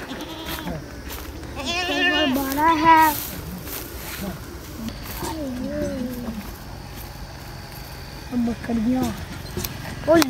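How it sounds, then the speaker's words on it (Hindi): Goats bleat in a village, with several wavering calls early, a lower drawn-out bleat in the middle and more near the end, close by, while someone talks over them. "इस तरफ बकरियां हैं"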